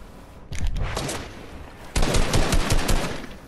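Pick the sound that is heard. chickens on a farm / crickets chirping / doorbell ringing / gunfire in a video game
gunfire in a video game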